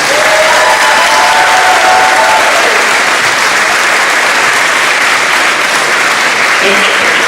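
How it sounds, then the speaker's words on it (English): A crowd applauds steadily at a school moving-up day ceremony for the upcoming graduates, a dense, sustained wash of clapping with a few faint voices mixed in, loud and continuous throughout. "Let's give a round of applause for our upcoming graduates."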